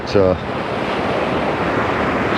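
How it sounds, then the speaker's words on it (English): Ocean surf washes and hisses steadily up a Thai beach at Rayong, a broad continuous roar close by with wind, and a brief voice near the start. "So yeah, we're walking in the surf here."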